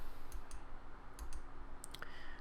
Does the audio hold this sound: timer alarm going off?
no